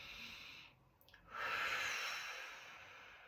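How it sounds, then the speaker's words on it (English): A single deep breath drawn in during a shoulder exercise: a brief pause, then a long, airy inhale that swells and slowly fades, close and fairly quiet, with no speech. "Breathe in"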